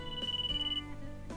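Cell phone ringing in the visual novel Hoshi Ori Yume Mirai, a steady electronic ringtone pulsing in quick repeated beeps for most of the moment, then cutting off as background music carries on.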